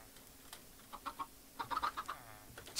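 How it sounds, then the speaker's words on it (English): Chickens clucking in the Minecraft game, a short run of soft, quick clucks in two brief clusters, fairly faint against a quiet background. "Chickens!"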